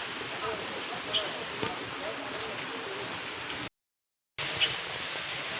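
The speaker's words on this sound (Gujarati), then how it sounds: "અત્યારે વરસાદ આવો ચાલુ થઈ જશે તો જો ગાઈસ વરસાદ" Steady rain falling outdoors after a hot day, a dense continuous hiss of drops on surfaces throughout, briefly cutting out before resuming.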